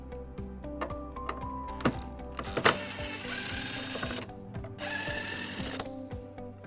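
A 10mm socket wrench ratchets out the tail light bolts on a 2017 Toyota Sienna. It gives quick close bursts of fine clicking, with short pauses between turns and a faint metallic rattle.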